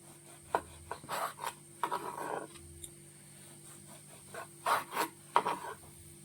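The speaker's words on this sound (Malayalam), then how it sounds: "നമ്മുടെ ബ്രെഡിന്റെ സൈഡൊക്കെ ഒന്ന് നമുക്കൊന്ന് കട്ട് ചെയ്തെടുക്കാം" A knife cuts the crusts off slices of bread in a kitchen, making a handful of short, quiet rasping strokes in separate bursts, close by, with near-silence between them.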